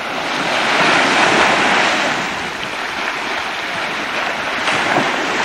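Surf at Pink Beach in the Caribbean rushes steadily as a loud, broad wash of waves mixed with wind buffeting the microphone, continuous throughout with no voices.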